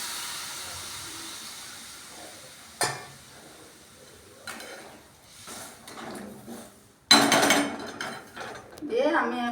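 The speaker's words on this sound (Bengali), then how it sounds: "দিয়ে আমি এখন ঢাকা দিয়ে দিচ্ছি" A pot of potatoes in water for boiling gets covered, with scattered metallic knocks and clatter, a hissing burst and a lid clanking into place near the end, all close and without talk.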